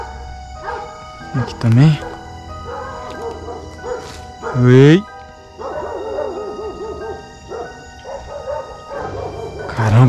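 Dogs bark in short bursts at a distance outside a century-old house at night while someone speaks over them, with a couple of louder barks standing out.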